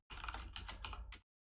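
Fingers type code on a computer keyboard in a short, quick burst of close clicks and key taps lasting just over a second, then silence.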